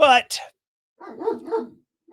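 A dog barking just outside a door: a few quick, close barks at the start, with a voice talking in between.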